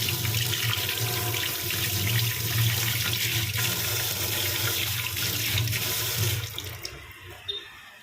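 Steady rush of tap water running into a sink as hands are washed in a home kitchen, loud and constant before cutting off near the end with a few drips.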